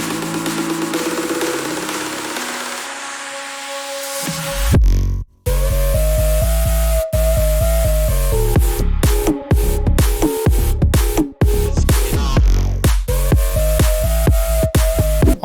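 An STMPD-style electronic dance track moves from a break into a rising build-up and a loud drop, with a heavy pulsing low end, sustained synth chords and short gaps cutting the beat, and no voices.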